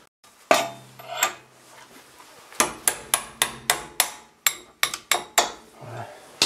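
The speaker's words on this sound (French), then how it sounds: "Avec un marteau." Hammer striking a pin punch to drive a bolt out of a Mercedes rear suspension link, a couple of ringing metallic blows followed by a quick series of about a dozen sharp strikes.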